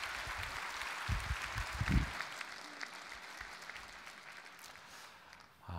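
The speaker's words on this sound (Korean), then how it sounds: "우리 두 분 목사님 박수로 환영하도록 하겠습니다" A church congregation claps to welcome two pastors, a fairly soft, steady round of applause heard from the hall with a few louder bursts near the start, fading gradually.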